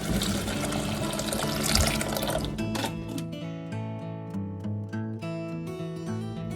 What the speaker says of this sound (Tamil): நம்ம இப்போ ஏதாவது தேவையான அளவு தண்ணி ஊற்றிக்கலாம்.